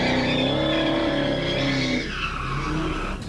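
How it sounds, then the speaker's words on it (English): A car spins out doing donuts just before a head-on crash into a stopped patrol car, its tires squealing loudly and continuously over engine noise as the pitch slides and shifts. "the man drives around behind him before coming back into sight again, spinning out, doing donuts"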